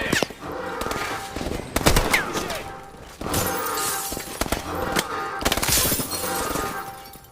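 Dense bursts of gunfire and shattering impacts fill a prison-escape battle in Call of Duty: Advanced Warfare at Atlas base, loud and near, with scattered shots and breaking sounds.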